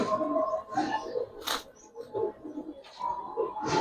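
Gribaz and coloring pigeons coo softly in short, low, throaty bursts, fairly close, with other rustles and movement from the birds in between.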